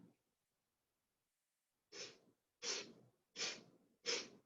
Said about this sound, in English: the exhale is quick bursts out through the nostrils